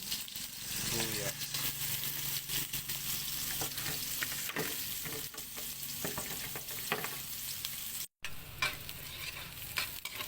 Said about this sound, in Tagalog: Maglagay tayo ng konting mantika, tapos bawang,